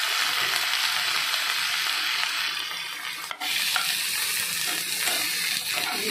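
Vegetables for oats khichuri sizzle in a pan after lightly fried onions, with a continuous close frying hiss and scraping stirs running throughout, briefly interrupted by a sharp clack near the middle.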